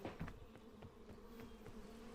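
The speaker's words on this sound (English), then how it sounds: "I'm gonna wait these bees out." Steady droning buzz of a swarm of bees in a video game, a low hum with repeated soft wingbeat pulses, fairly close and continuous with no talk over it.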